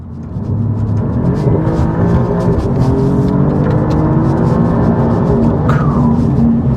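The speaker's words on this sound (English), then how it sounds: "you can hear that Akrapovic exhaust that's on this one" A 2021 Alfa Romeo Giulia Quadrifoglio with an Akrapovic exhaust drives in race mode, heard from inside. Its engine gives a loud, steady low drone with a faint whir layered on top, and there is no talking.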